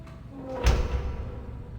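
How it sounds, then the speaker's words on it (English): A single heavy door thudding shut in the adventure game Riven, a brief mid-clip slam with a low rumbling tail over quiet ambience. "close the bullshit door"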